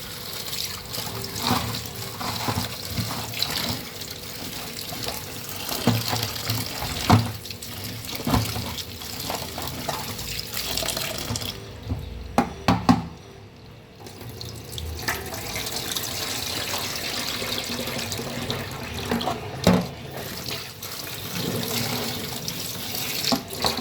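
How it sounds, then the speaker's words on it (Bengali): A kitchen tap runs steadily while water lilies and shrimp are washed in a sink, splashing and trickling with occasional clunks and a brief pause in the flow. "তারপর ধুয়ে নিলাম ২-৩ বার।"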